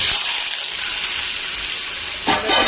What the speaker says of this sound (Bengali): হালকা করে ভেজে নেব আমটা